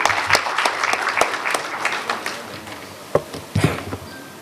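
Applause from an audience at the grand opening ceremony of the Lovebird Society of Karachi, a scattered patter of claps thinning out toward the end with a few louder isolated claps.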